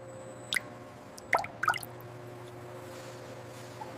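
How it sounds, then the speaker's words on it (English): Excess chocolate drips off coated ice cream bars on a factory line as a few distinct wet drips and squishy splats, close and fairly clear over a low steady machine hum. "Excess chocolate drips away."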